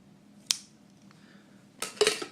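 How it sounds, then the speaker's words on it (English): Scissors among household tools are handled at close range: a sharp metallic click early on, then a brief cluster of scraping and clinking metal near the end, with quiet room tone between. "Scissors, you know, just for opening stuff."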